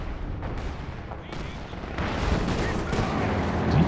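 Howitzer artillery in Company of Heroes 2 rumbles with dense, overlapping booms and shell blasts, growing heavier midway, while a commentator talks over the barrage.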